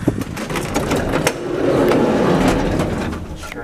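Door of a vintage 1950s Esco hydraulic elevator closing quickly in an office building, a loud continuous sliding rumble with a few clunks, lasting a few seconds, close by.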